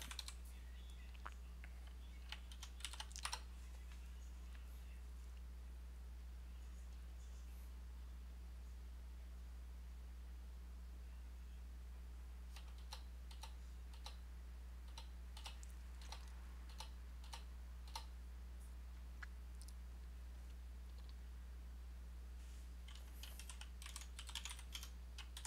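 Keys on a computer keyboard clatter in short bursts of quick, faint taps, with long pauses between them, over a steady low electrical hum.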